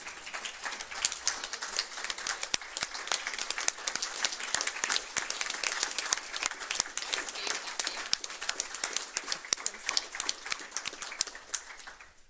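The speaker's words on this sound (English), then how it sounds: "Why are you clapping for yourself?" A crowd applauds steadily for several seconds at a student government Senate meeting, dense overlapping claps filling the room before tapering off at the end.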